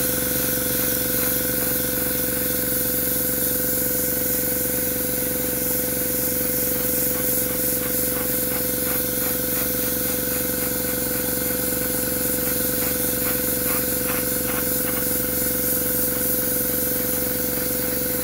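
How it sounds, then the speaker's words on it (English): Vallejo Surface Primer Black sprayed from an airbrush onto a model Miranda-class starship, a steady close hiss with a faint motor hum underneath, continuous and unbroken for the whole stretch. "And now for the primer, I'm going to use Vallejo Surface Primer Black."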